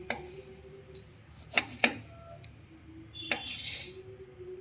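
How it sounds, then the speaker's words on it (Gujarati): Knife cutting a lemon into pieces for a chili, lemon and carrot pickle, a few sharp chopping strikes against a board, spaced irregularly and fairly close, in a quiet kitchen. "આમાં આપણે લીંબુ નાખશું, લીંબુને કટિંગ કરી નાખીએ"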